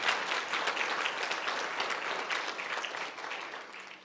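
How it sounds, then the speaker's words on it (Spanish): A church congregation applauds during a sermon, with many hands clapping in a continuous, even patter that sounds fairly quiet and a little distant, fading gently toward the close. "Démosle el aplauso al Señor."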